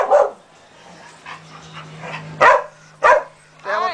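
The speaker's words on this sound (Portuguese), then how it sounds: "eu não grito, só vai ficar latindo" A small female dog barks at a New Year's gathering: four sharp, fairly loud barks spaced across the moment, with quieter murmuring and a low steady hum between them.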